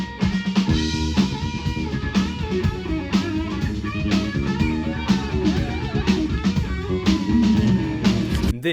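A guitar solo rings out loud and continuous, with busy runs of notes over a dense, full backing.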